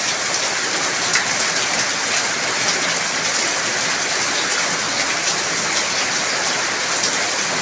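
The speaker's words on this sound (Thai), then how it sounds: "ฝนก็ยังตกหนักอยู่" Heavy rain pours steadily and densely in a rural village in Surin province, Thailand, during a storm with strong wind. It is a loud, unbroken wash of noise with no voices.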